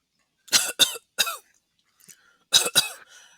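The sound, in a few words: coughing from thick smoke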